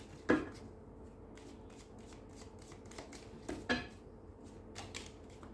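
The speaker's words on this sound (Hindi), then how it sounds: "इसमें से एक कार्ड निकाल देती हूँ" Tarot cards shuffled by hand with two louder riffling bursts and lighter flicks and taps of card stock between them, close and clear, with no talking.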